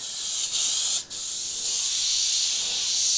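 A continuous, bright hiss of a trigger airbrush spraying thinned paint, steady and close, with one brief interruption early on before the spray resumes evenly.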